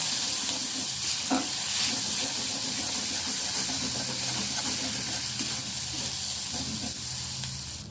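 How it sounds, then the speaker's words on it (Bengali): A cumin and turmeric spice mix frying in a pan makes an even, continuous hiss and sizzle. A few soft taps of stirring come through, and the sound stays at a moderate level throughout. "মশলাটা আমি ভালোভাবে ভেজে নেব"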